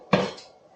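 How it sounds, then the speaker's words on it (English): A single sharp metallic clank as a lid is set onto a pot of homemade chili, ringing briefly and fading quickly to quiet. "on goes the lid"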